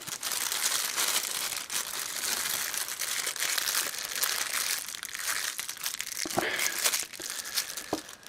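A plastic storage bag is folded over and pressed down tight, giving steady close crinkling and crumpling for several seconds with a few sharper crunches near the end, no talk.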